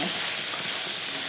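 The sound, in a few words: stirring greens into sizzling meat sauce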